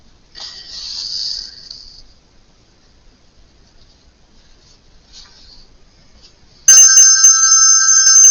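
A phone ringtone breaks in loudly near the end with bright, steady electronic tones, following quieter rustling and faint handling noises in a home craft setting.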